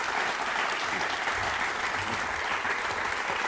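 A school audience at a quiz show claps in a thick, continuous wash of applause. The sound is loud and close, holds an even level throughout, and has no voices over it.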